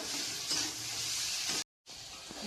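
Meat sizzles in a pan for chow mein, a soft continuous hiss with light stirring scrapes, briefly cutting to silence before the frying resumes.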